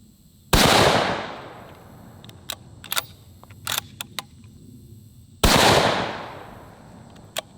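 Two loud, sharp rifle shots from a bolt-action gun ring out several seconds apart, each trailing off in a long echoing decay, with a few faint clicks and handling noises in between.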